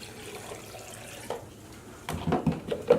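Small splash of water poured into a secondhand blender holding clay pieces: quiet background at first, then a short, splashy burst of pouring near the end, close by with no talk.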